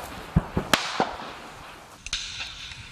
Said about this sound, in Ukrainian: Тобто ми бачимо звук вистрілу і є ехо, яке приходить.